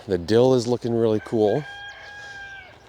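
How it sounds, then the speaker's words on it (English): Chickens clucking and a rooster crowing in a July garden, the loud drawn-out calls close by and breaking off into a thin fading tail, with a voice talking briefly over them. "You can probably hear the chickens in the background."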